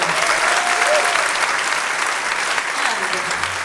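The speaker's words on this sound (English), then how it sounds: "applause to piano" Warm audience applause for a pianist at a jazz concert at Syros Jazz Festival; dense, sustained clapping from a crowd, with a voice and some tonal sound faintly beneath it.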